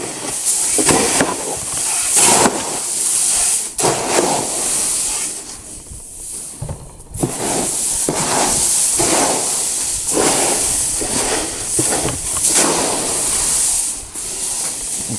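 Seeds of sainfoin and brome being mixed thoroughly with a small scoop, a loud, rhythmic rushing hiss of grains shifting and pouring in repeated strokes, close up with no voice.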